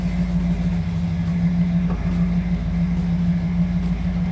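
A 1967 Cadillac DeVille convertible engine runs with a steady, deep low hum, close and continuous over several seconds with no talk.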